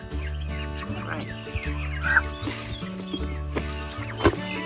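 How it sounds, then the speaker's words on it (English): Turkeys gobble and cluck close by on a farm at night, a run of repeated throaty calls with a few sharper bursts and little else around them. "I can hear that there are some turkeys out"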